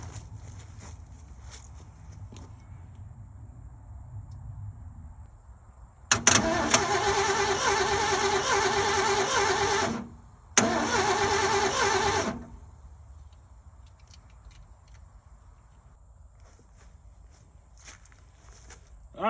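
A Ford 351M V8 in an old Ford truck cranks twice without firing: a loud, steady starter whir for about four seconds, a brief pause, then two more seconds, with quiet shuffling around it.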